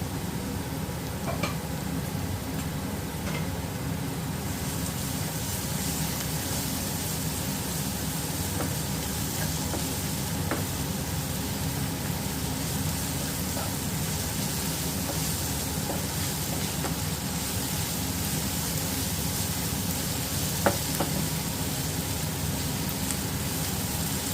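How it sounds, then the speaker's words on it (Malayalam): Spice masala with ginger garlic paste frying in a pan for egg roast, a steady broad sizzle with a low rumble beneath and occasional sharp clicks of stirring, continuous and fairly close. "മസാലകൾ ഏകദേശം ഫ്രൈ ആയിട്ടുണ്ട്."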